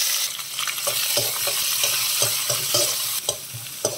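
Sliced onions, garlic and dried red chillies sizzle steadily in hot oil for a Thotakura tomato curry, with a spoon scraping and stirring the pan in a repeated rhythm, close and continuous.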